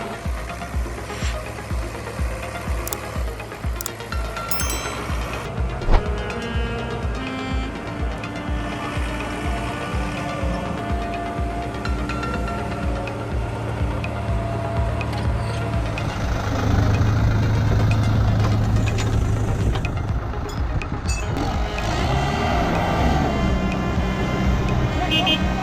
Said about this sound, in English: Engines roar, wheels churn up mud, diesel fumes fill the air.